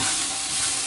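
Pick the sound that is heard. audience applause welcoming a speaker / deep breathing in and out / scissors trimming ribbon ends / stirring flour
stirring flour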